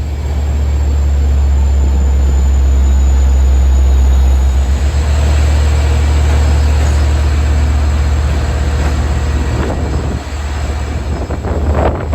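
A Long Island Rail Road train departs Jamaica station for Hempstead amid strong wind, a steady loud low rumble of the moving train that runs nearly unbroken and eases slightly toward the end.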